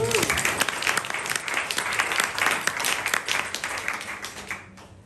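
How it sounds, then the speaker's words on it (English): Pub audience applauding at a community politics talk on rough sleeping in Fremantle, a dense steady wash of many hands clapping close by, easing off toward the end. "a round of applause for Phil"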